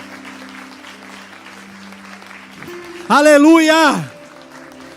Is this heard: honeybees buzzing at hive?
no